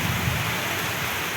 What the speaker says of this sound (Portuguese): Aí agora caiu essa chuvada aqui, ó.